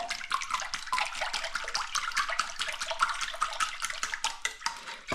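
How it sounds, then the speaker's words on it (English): A little vanilla essence being whisked into pancake batter in a bowl, giving a rapid, steady scraping and clinking of whisk against the bowl that carries on without a break for several seconds. "Give that a little whisk."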